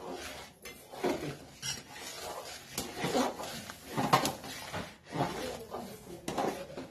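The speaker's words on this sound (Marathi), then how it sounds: "असं हलवत हलवत थोडा थोडा रवा घालायचा" Semolina (rava) being stirred in a pan on low heat while more is added a little at a time, a steady scraping and rubbing of spoon against metal in irregular strokes, close and moderately loud.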